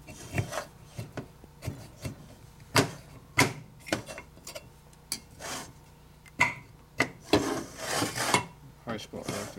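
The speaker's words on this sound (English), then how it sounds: "I'm using a gasket scraper, not a rotary disc sander that screws up your cases." A gasket scraper works across a 1965 Harley-Davidson Panhead 4-speed transmission case, giving irregular, close scraping strokes and metallic rasps in short bursts with clattering pauses, growing busier toward the end.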